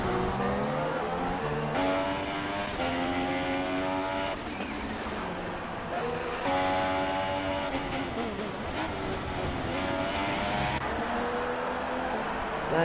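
Race car engines in the GP2 racing game at the Canadian round, a steady roaring drone with rising and falling gear-change pitch sweeps as cars brake for the chicane and accelerate away, continuous and fairly loud.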